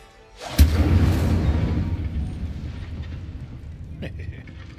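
A burst of fire from the Incendio spell in Hogwarts Legacy: a sudden sharp whoosh-boom followed by a sustained roaring rush that slowly fades over several seconds, loud and close.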